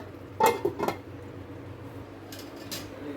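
A lid set down on a cooking pot while masala brinjal cooks, giving a few close metallic clinks in quick succession, followed by faint clatter and a quiet kitchen background.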